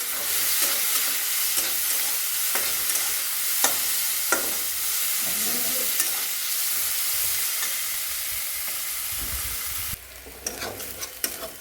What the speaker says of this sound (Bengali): এখন আমি এখানে রসুন দেব, কাঁচা লঙ্কা, পেঁয়াজ দিয়ে এটাকে আমি ভালো করে একটু ভেজে নিই